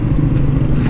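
A loud 2021 Yamaha Sniper 155 motorcycle engine revs steadily with a low, growling rumble, close up and continuous for the whole moment.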